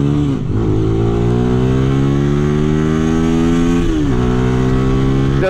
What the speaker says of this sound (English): I don't think this bike is revving this high